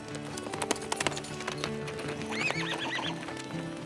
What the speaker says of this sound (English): Vic also keeps about 70 to 80 horses around for the ranch's Remuda